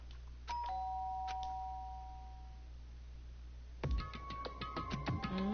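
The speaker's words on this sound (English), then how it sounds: "did I hear the doorbell?" A doorbell in the video game Danganronpa: Trigger Happy Havoc chimes a clear two-note ding-dong that rings out and fades, followed by brighter, busier game music and effects.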